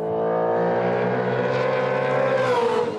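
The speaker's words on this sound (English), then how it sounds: "the Chevrolet Camaro and Ford Mustang will be the sight and sound of supercars" A Supercars race car, Chevrolet Camaro or Ford Mustang, roars loudly at high revs on a racetrack, a continuous close engine howl that climbs in pitch as it accelerates.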